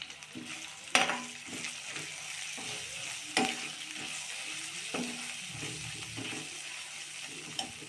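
Chicken curry base with turmeric frying in a pan sizzles steadily up close, punctuated by a few sharp spoon taps against the pan and irregular stirring scrapes, without speech.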